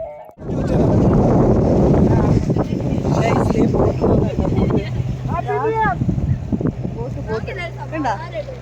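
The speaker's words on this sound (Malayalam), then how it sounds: "Boat പോകുന്നുണ്ട, boat." A boat's engine hums steadily in the background at sea off Beypore beach under gusty wind noise, while people talk nearby.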